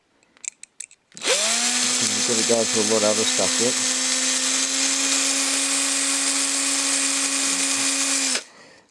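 A power drill bores into a 1:64 scale Hot Wheels diecast car, a loud steady whine that holds for about seven seconds with a brief load-dependent warble early on, while someone talks over it.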